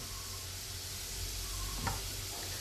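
Potato pieces frying in a pan for a shapla (water lily) dish give a steady, close sizzle with a few faint stirring scrapes, and no one speaks.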